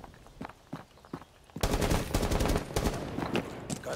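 Rapid automatic gunfire in Rainbow Six Siege, with a few scattered shots and steps at first, then a sudden loud, sustained burst of close-range rounds that fills the rest.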